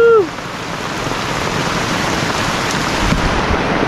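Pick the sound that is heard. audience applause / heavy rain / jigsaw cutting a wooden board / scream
heavy rain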